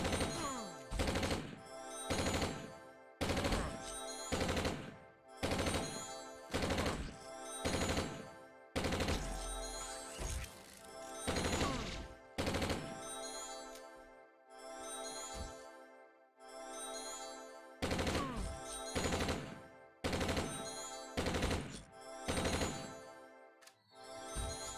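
Repeated bursts of automatic gunfire in the Entropia Universe video game, loud rapid volleys roughly every second with brief gaps, played alone without talk.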